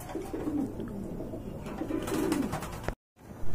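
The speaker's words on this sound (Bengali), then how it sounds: "দর্শক, এখানে কিন্তু তিন জোড়া রাজগোল্লা কবুতর রয়েছে ভাই।" Rajgolla pigeons coo softly and repeatedly nearby, low throaty burbles over a faint ambient hum, with a brief dropout near the end.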